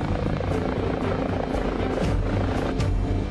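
A helicopter drones steadily nearby over a landing pad, its continuous rotor thrum and engine whine filling the scene at a constant, fairly loud level.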